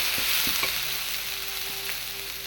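Ingredients for chicken gravy sauté in a hot pan with a steady, close sizzle, broken by a few soft stirring knocks early on and a faint hum running underneath.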